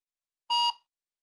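A mobile document-management app emits a single short electronic beep on scanning a QR code, sharp and isolated against silence.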